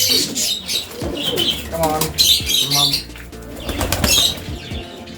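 A large Lahori pigeon flaps its wings in sharp bursts while being handled on a pigeon farm. Soft cooing and a few chirps from birds are mixed in, close and fairly loud.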